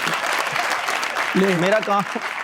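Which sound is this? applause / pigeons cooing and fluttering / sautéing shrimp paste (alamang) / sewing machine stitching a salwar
applause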